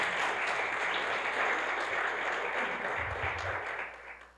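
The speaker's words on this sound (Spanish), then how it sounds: "Denle un fuerte aplauso al Señor en esta mañana." A congregation at a church service breaks into sustained, dense applause from many hands, fairly distant and steady, with a few low thumps near the end as it begins to fade.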